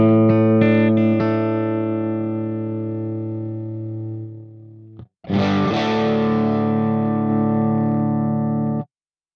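A guitar played through a Fractal FM3 on the Custom Audio CA3+ clean preamp model, ringing clean chords that decay slowly, then a second strummed chord sustained until an abrupt cut, with no talking.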